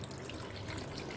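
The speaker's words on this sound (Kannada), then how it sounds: "ಕೋಲ್ಡ್ ನೀರು ಹಾಕ್ಕೋತಾ ಇದ್ದೀನಿ ತೊಳೆಯೋಕ್ಕೆ." Cold tap water runs steadily over freshly churned butter in a bowl, washing the cream out of it in a continuous close splashing flow with no one speaking.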